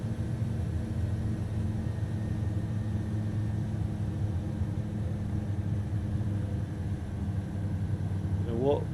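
A light aircraft engine in flight over Surrey gives a steady, loud droning rumble with a constant low hum that holds without change throughout and is heard from inside the cabin.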